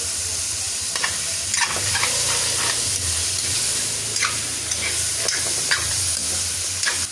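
Meat and lemongrass frying in a little oil in a pan, giving a steady close sizzle with occasional scraping stir strokes throughout, no voices.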